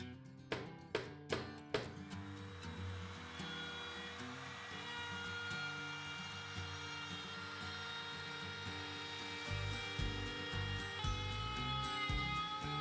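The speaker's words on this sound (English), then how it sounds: "used the router to trim up the outside." A router trims the outer edge of a wooden disc for a rotating bar cabinet shelf, opening with a few sharp clattering bursts before settling into a steady, loud, whining cut that runs throughout with slight changes in pitch.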